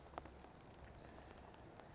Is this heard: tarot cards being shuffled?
no